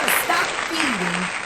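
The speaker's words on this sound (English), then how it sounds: "I'm going to give myself a round of applause right there." A brief burst of hand clapping, a dense crackle of applause lasting a second and a half with a voice talking over it.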